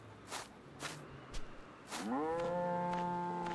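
A cow moos once in a video game, a long low drawn-out call rising then holding steady, preceded by a few soft thumping footsteps, fairly quiet and with no talking.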